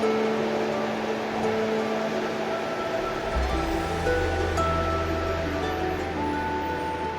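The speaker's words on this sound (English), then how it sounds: "Beautiful stream here." Stream in the Richmond Ranges of New Zealand, water rushing in a steady broad wash throughout, close and fairly loud, with a low rumble joining partway through and no voices.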